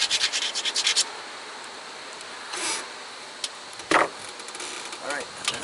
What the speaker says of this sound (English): So I grind off all the stuff that doesn't want to be there.